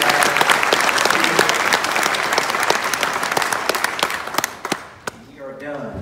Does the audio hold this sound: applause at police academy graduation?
yes